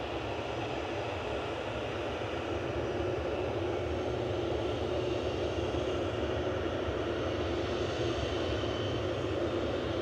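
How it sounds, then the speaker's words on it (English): A TUI Boeing 787-8 on flight 157 from Punta Cana crosses the threshold to land at Manchester Airport, giving a constant, even jet roar with a low hum that holds steady throughout, no voices. "Coming over the threshold though is TUI flight 157 from Punta Cana, 787-8, operated by TUI today."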